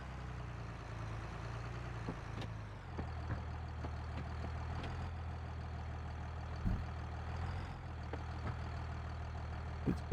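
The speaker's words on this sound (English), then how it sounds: "we'll have to use the Ford to power the hay buster" In Farming Simulator 22, a Ford tractor engine idles and runs at a low, steady rumble while powering a hay buster, with occasional clunks and a slight change in pitch partway through.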